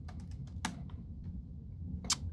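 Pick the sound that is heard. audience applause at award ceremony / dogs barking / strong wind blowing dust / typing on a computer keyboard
typing on a computer keyboard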